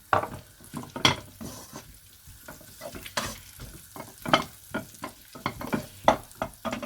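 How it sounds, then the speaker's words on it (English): Butter hits a hot pan already used for cooking chicken keema pulao and sizzles close up, with a run of bursting crackles and spoon scrapes in uneven pulses. "So now I'm just adding this butter to the same pan."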